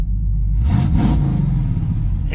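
An old car engine revs just after a cold start, a loud, close rumbling rise and fall lasting a couple of seconds on its own.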